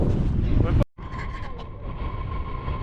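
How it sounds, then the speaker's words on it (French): Loud, steady wind roaring across the microphone on the Cerro Negro volcano in Nicaragua, broken by a brief dropout, then continuing as a buffeting rush with a faint tonal hum. "Beaucoup de vent."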